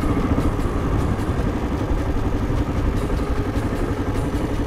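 A motorcycle engine idling while parked, a steady low chugging rumble with slight clatter, close and constant throughout with no talking.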